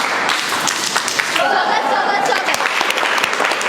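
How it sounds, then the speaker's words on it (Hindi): Students give a welcome round of applause, a dense steady clapping from a crowd that carries evenly from start to finish. "स्वागत ताली के लिए पोजीशन स्टार्ट।"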